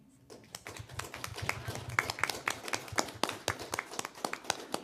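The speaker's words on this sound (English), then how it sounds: "I think that deserves a round of applause too" A small group at a school board meeting claps: distinct individual hand claps in a quick, uneven rhythm, starting after a brief quiet moment and continuing at moderate loudness to the end.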